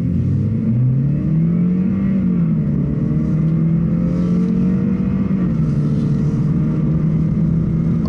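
A Lexus IS200t accelerating hard during an acceleration test, its engine note rising steadily through the gears, loud and close, with a brief dip at a shift before it climbs again, no talking.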